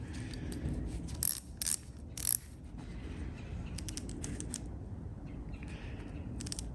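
A Bonney 1/4 inch drive ratchet is worked by hand, giving a few short, close bursts of ratcheting clicks followed by lighter mechanical clicking.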